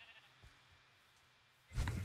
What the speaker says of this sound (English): Green's taking all of our sheep!